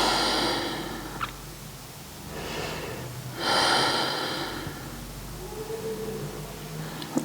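Slow, deep breaths are drawn in and pushed out through the nose during a dancer's pose in a beginner yoga flow, close and soft, with a faint snorting edge on each exhale.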